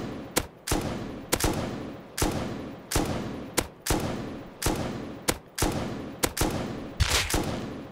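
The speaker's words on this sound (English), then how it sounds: "That was a headshot from probably 400 yards away." Repeated long-range rifle shots in the survival video game Rust, a steady series of about ten sharp, loud cracks roughly every 0.7 seconds, each with a short decaying echo, with no talking.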